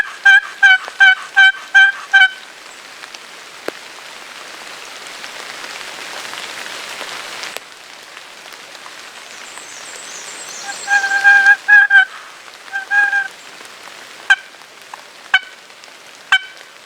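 Rain patters steadily on the surface around a food plot in the Georgia woods, a soft continuous hiss, while a wild turkey gobbles loudly in repeated bursts before and after.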